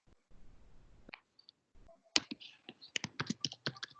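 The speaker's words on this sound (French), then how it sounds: "j'appuie sur la touche supprimer qu'on a dans le clavier" Keys are pressed on a computer keyboard, including the delete key: a quick cluster of sharp, close plastic clicks after a quiet start, alone with no talking.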